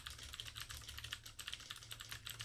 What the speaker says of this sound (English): The cool things are you could even have like little sound effects when you're typing.